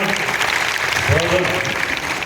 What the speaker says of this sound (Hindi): जरूर तालियां संतोष जी के लिए।